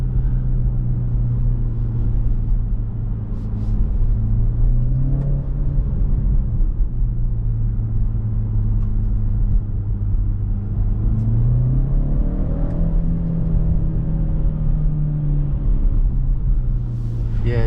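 Engine of a 2023 BMW X1 xDrive23i drones steadily during a city drive, its pitch climbing and dipping as the car accelerates, with a continuous low road rumble and a voice talking over it throughout.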